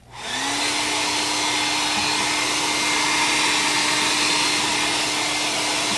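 A hair dryer switches on and blows steadily, loud and close, holding an even whine and rushing-air roar for several seconds without any talking.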